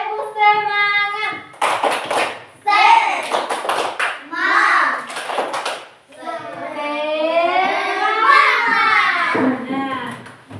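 A repeat of the rhythmic 'tepuk semangat' clapping chant by children in a classroom, lively sung voices broken by crisp groups of hand claps, close and loud.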